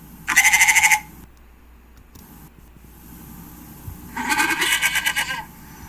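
A goat bleats twice, two loud, close, wavering calls separated by a few seconds of quiet farmyard background.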